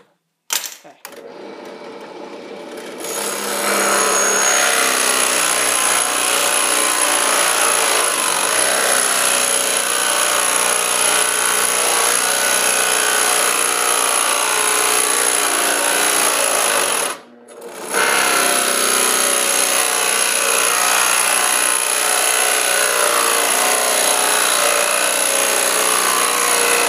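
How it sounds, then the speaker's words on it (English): A drill bores into oak with a Forstner bit, a steady, loud grinding whir that runs continuously for about fourteen seconds, pauses briefly, then resumes and carries on to the end. "A Forstner bit. This is oak and it's kind of hard with the spade."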